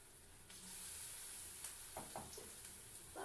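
Fritters (bora) fry until crisp in oil in a kadai, giving a soft, steady sizzling hiss with a few small pops and crackles. The sound stays faint throughout.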